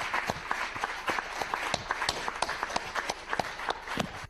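Scattered clapping from an audience honoring a president at a formal gathering, individual claps clearly separated and irregular, moderately close and fairly quiet, with no voices over it.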